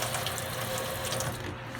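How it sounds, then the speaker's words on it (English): Water pours steadily from a sink faucet in a continuous broadband rush, close and fairly loud, with no talking. "turn off the faucet"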